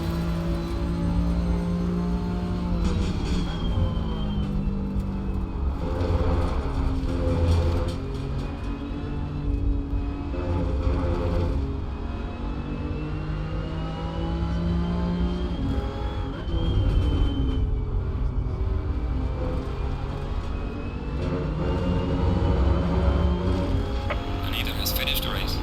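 Race-car engine of a BMW in Assetto Corsa Competizione drones steadily and loud throughout, with rising and falling revs as it accelerates and shifts, while someone talks over it.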